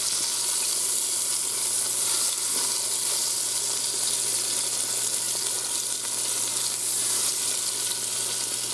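Steak browns in an Instant Pot after being turned, giving a loud, continuous, close sizzle with a crackling, spattering texture and no talk over it.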